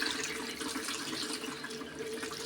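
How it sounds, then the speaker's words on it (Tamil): Cauliflower is rinsed briefly in cold water, a soft, steady splashing and trickle at low volume with no talking over it. "கொஞ்சமாக பச்சை தண்ணியில் இப்படி வாஷ் பண்ணிக்கலாம்"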